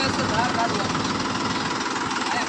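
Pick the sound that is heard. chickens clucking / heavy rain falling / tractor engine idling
tractor engine idling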